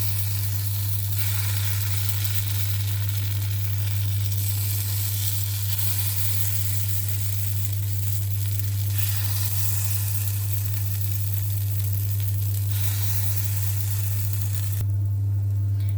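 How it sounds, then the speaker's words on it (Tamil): Barley paniyaram batter sizzles in a hot kuzhi paniyaram pan, a steady, close hiss that runs unbroken throughout over a constant low electrical hum. "நம்ம ரெடி பண்ணி வச்சுருக்க பேட்டரை இதில் அப்ளை பண்ணிக்கலாம் கொஞ்சம் கொஞ்சமாக."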